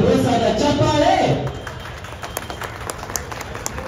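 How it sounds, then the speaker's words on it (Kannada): An audience at a Bengaluru event breaks into brief applause that starts under a loud voice and then thins to a few scattered, distinct claps with light crowd noise. "ಒಮ್ಮೆ ನಿಮ್ಮೆಲ್ಲರ ಪ್ರೀತಿಯ ಪ್ರೋತ್ಸಾಹದ ಚಪ್ಪಾಳೆ"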